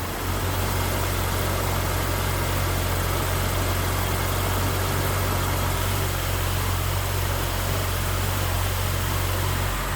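A Jeep Cherokee XJ with the 4.0 engine idles steadily, a close, loud, even low rumble that holds without change throughout, with no voices.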